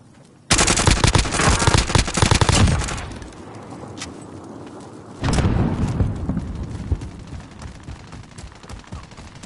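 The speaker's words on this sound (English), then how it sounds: "I'm being shot from the left, man." Dense bursts of automatic gunfire from a shooter video game, a loud sustained volley followed by a quieter stretch and then a second heavy burst of shots close by.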